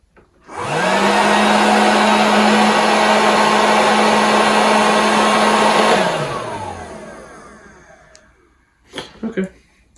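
A Dash Turbo Pop hot air popcorn maker switches on with a rising whine, then runs as a loud, steady fan roar with a constant hum for several seconds before spinning down, followed by a few brief knocks and handling sounds.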